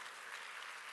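A church congregation applauding during a Korean sermon, a dense, even wash of many hands clapping at moderate distance, brief and continuous without voices.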